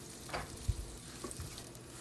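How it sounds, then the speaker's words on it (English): Food sizzling gently in a pan while cooking a soy sauce egg fried rice dinner, a quiet soft crackle with a few faint stirring taps. "Just let it sizzle gently. Don't burn it."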